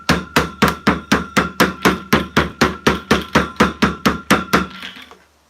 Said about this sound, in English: We're going to hammer this guy down so our lid is nice and tight.